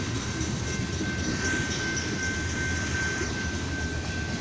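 A slow train with two locomotives at the end rolls past with a continuous rumble and steady metallic whine, wheels grinding faintly on the rails.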